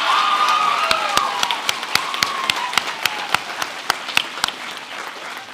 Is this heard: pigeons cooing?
no